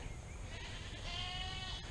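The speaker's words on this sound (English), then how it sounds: "But the goats think we're down here to feed them." Goats bleat in a garden setting near livestock, giving a short, wavering, mid-pitched call over a steady background hum, with no talk.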